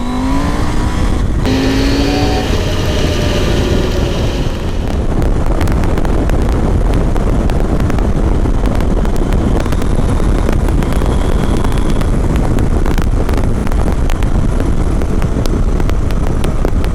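A KTM 790R adventure motorcycle under way with quick-shift gear changes, its engine note rising in pitch early on, then a steady loud roar of engine and wind buffeting the microphone, with no talking.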